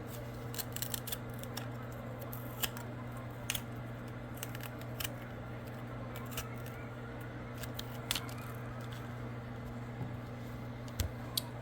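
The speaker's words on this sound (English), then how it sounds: "I wanted to make sure we ate our pepper for dinner, so I'm just going to go ahead and cut it up" A raw homegrown pepper is cut up with scissors in a greenhouse, giving scattered faint snips and clicks over a steady low hum, quiet and close, with no talking.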